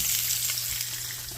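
Peppers and onions sizzle in a pan for country fried steak, a steady close crackling hiss with no voices.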